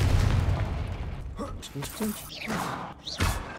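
Blast spell explosions in Hogwarts Legacy: a rumbling boom at the start, followed by popping bursts and mechanical clatter, loud and close, with a voice speaking over parts of it.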